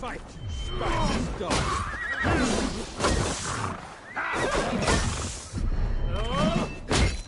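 Horses whinny and neigh in Assassin's Creed Valhalla during a combat scene at the siege of Paris, several rising calls over game noise and a voice talking throughout.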